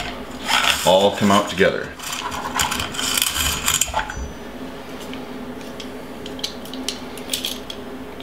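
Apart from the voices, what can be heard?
shotgun bolt, spring and guide rod sliding out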